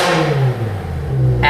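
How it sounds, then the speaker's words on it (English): A 2007 BMW M6 coupe's 507-horsepower V10 revs loudly while parked with the brake set, rising and falling in a couple of throaty bursts, heard close from inside the car. "I'm going to pull the emergency brake up, give you a couple revs just inside."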